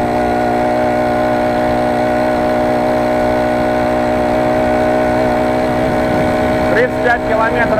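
A motorized bicycle with a 4-stroke engine similar to a Honda GX35 runs at full throttle, a loud, steady high-pitched drone close by that holds throughout, with slight shifts in pitch near the end.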